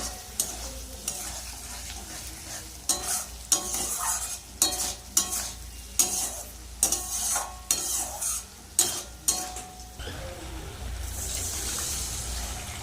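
Water goes into a frying spice paste for a prawn and chitol fish curry with kalmi greens, and repeated stirring scrapes and sizzles in a steady rhythm before a broader hiss of liquid hitting the hot pan.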